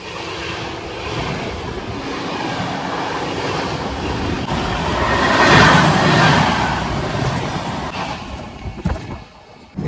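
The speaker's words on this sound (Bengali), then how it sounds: "এটা কলকাতা বিকানির ট্রেন গেল" The Kolkata–Bikaner train passes by a stationary train at a station, a broad rushing roar that swells to a peak midway and then fades, with a few sharp knocks near the end.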